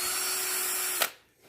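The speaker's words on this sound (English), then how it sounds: "then I can just drill right in between where my 2 fingers are" Power drill boring a hole through a wooden board while building a rabbit hutch, a steady close whine for about a second ending in a brief louder burst as the bit breaks through, then quiet.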